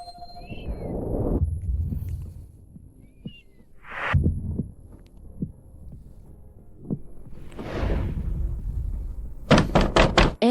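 Knocking on a door in a home: a few scattered soft thuds, then a quick loud burst of several knocks near the end, heard close amid quiet room noise with brief breathy sounds.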